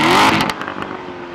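A 2014 Chevrolet Corvette Stingray Z51 in race exhaust mode gives a brief loud rev that quickly drops away, followed by a short crackling, fading tail.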